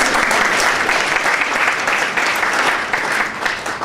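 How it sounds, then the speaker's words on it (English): Dense applause from an evening symposium audience honoring the artists, steady and loud throughout with no voices over it. "I think we should give them a round of applause"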